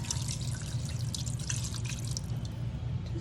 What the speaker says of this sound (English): just about, you can see it, about a cup of water or so in there.